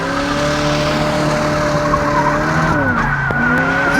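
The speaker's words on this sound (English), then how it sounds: "our truck sounds great with the new exhaust on it" An S10 street truck with a V8 conversion and new exhaust, loud and close, holding a steady engine tone before the pitch shifts sharply near the end, with tire squeal and no voices.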